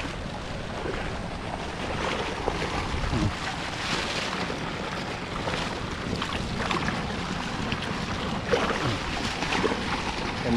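Strong water rushes steadily through a flooded rice field on a rainy day, a dense, unbroken roar that stays loud for the whole stretch.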